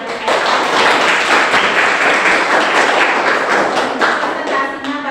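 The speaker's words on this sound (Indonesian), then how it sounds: "Iya, tepuk tangan dulu dari" A classroom group claps after a student presentation, loud, close rapid clapping from a small crowd with thumping hand hits, continuous and then easing off near the end.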